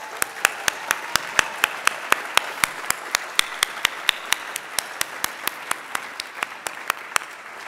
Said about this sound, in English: let's do one more round of applause for Kuali Olay team